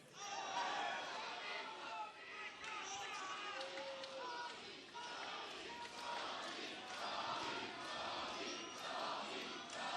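Crowd noise from a wrestling arena in Cincinnati on a broadcast: a fairly quiet, diffuse murmur of chatter and scattered shouts, with some louder swells and voices talking over it.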